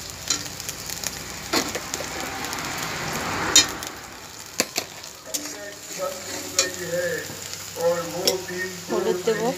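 Spice paste sizzles and fries in a pan over medium heat with salt added, while a spoon stirs and scrapes through it, for a vegetarian potato and pointed gourd curry; the crackle is fairly close, with tonal background music toward the end.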